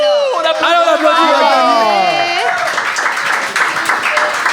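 Live audience at a show, first whooping and cheering voices, then a dense wash of steady applause that fills the rest of the moment.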